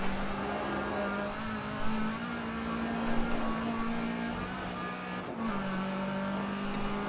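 Classic Mini race cars overtaking on Lydden Hill circuit in Dirt Rally, a steady loud engine drone with shifting pitch as other cars pass close by, brief tire noise, no talking.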